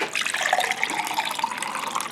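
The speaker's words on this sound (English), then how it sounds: "Just fill it up with water." A container being filled with water from a tap: a brief, close, rushing gurgle of running water, steady and fairly loud, with no voices.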